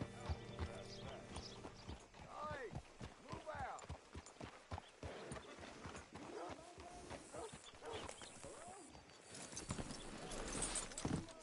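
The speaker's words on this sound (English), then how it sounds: "Hitch your horse up here." Horse hooves clip-clopping in a video game, a steady run of hoofbeats under talking voices, with the sound growing louder toward the end.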